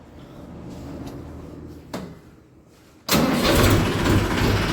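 A vehicle engine cranks briefly after a clunk, then catches and settles into a loud, steady idle.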